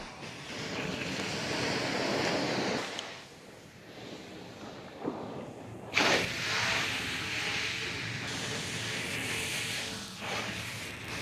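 Ocean waves break on a Florida beach during surf fishing, a constant loud roar and hiss with one surge that swells, fades and builds again. No voices are heard.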